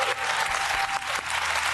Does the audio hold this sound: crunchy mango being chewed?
no